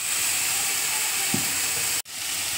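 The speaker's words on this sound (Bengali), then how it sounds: "তেল গরম হয়ে গেছে, এবার আমি আলুটা দিয়ে দিচ্ছি।" Potato, onion and chopped chili sizzle steadily in hot oil, a loud continuous frying hiss. It cuts out abruptly for a split second near the end, then resumes.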